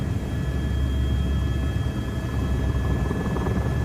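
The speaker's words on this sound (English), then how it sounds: "You get a helicopter first." A helicopter flies over the Thwaites Glacier in Antarctica, heard as a steady, loud low rumble and hum with a constant whine running through, continuous and without voices.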